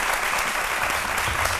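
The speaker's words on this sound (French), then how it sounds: "que je vous demande d'applaudir très fort." Studio audience on the French TV show C'est Midi breaks into loud, dense, sustained applause, with continuous clapping throughout and no pauses.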